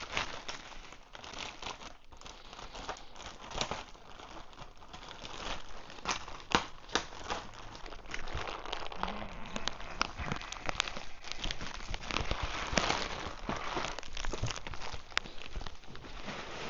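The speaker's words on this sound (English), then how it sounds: "so let's get rid of the plastic" Plastic packaging is pulled and crinkled off a Makera Z1 desktop CNC machine, with faint, continuous crumpling and rustling and occasional sharper tearing crackles up close.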